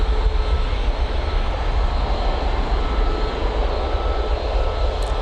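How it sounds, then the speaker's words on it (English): An EasyJet jet airliner departs Manchester Airport for Faro, a loud, close engine roar with deep rumbling and a broad hiss holding steady throughout. "I think we can get this EasyJet departure in full"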